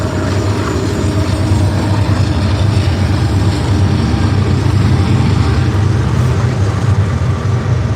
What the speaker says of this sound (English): this is the Santa Fe Trail where they have the train.